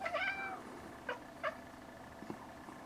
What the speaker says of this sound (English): You don't mess with a 20-pound Siamese cat.